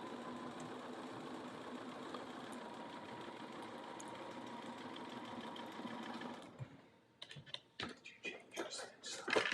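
A sewing machine stitches paper piecing for a New York Beauty curve block, running in a steady, even whir for about six seconds before stopping, followed by scattered handling clicks and rustles.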